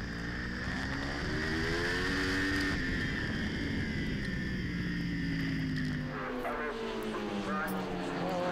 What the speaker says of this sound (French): un sublime dépassement de Mathieu Charpin à la réaccélération après le virage de l'école